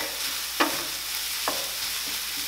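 Scrambled tofu fries on higher heat in a pan, a steady soft sizzle with two brief clicks of a spatula, close and alone.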